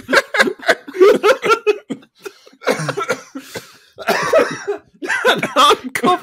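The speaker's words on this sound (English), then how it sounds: "I'm coughing." Repeated harsh coughing fits, loud and close, in several bursts with short gaps, mixed with a bit of laughter-like breathing.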